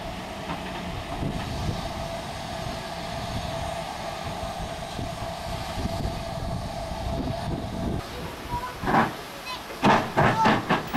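A steam locomotive pulls a train away from Toddington Station on a heritage railway, a low steady rumble with hiss and a continuous drone, then louder rhythmic chuffs and clanks near the end, without speech.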